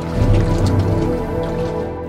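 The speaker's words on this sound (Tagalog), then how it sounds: "Ang silid-aralang ito sa Macabebe, Pampanga, pinasok ng tubig baha." Flood water pooled inside a school classroom in Macabebe, Pampanga, giving soft close drips, squishy sloshing and gurgling over a steady low background hum, with no talking.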